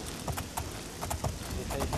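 Horse hooves clip-clop at a quick galloping rhythm in the video game Oblivion, close and steady for a couple of seconds, with faint speech underneath.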